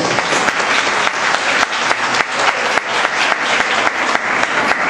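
A gathering applauds striking administrative workers, a loud, continuous wash of many clapping hands with sharp individual claps standing out, steady from start to finish.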